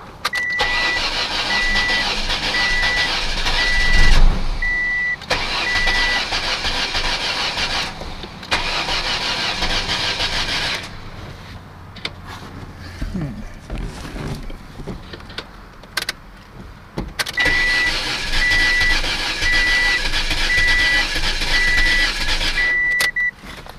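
A car engine cranks repeatedly in long bursts of whirring starter noise, pausing between attempts, with a chiming warning tone during the cranking; the car has been sitting and fails to start.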